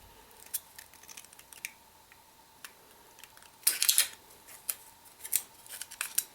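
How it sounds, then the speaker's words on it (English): Scissors snip a series of vertical incisions into an aluminum soda can, a scattered run of crisp close-up metallic clicks and cuts, some sharper and louder toward the end, with no talking. "I want to make 4 vertical incisions all the way up"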